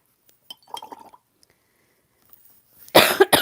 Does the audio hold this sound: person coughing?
yes